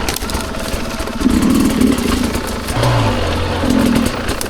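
Enduro motorbike engine on a narrow animal trail, a steady mid-range drone that swells in a couple of throttle surges, with no talk over it.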